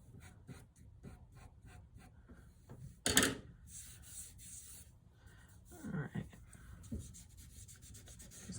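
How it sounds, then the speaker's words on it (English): Soft pastels rub and scratch on paper in quiet, intermittent strokes, with a louder swipe partway through, during a landscape painting of a green valley. "Kind of rub the bottom out a little bit."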